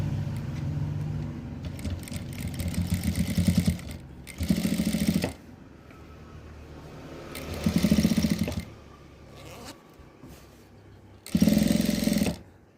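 A sewing machine stitches down a folded zipper in several loud bursts of rapid, buzzy needle chatter, with quieter pauses between them while the fabric is repositioned.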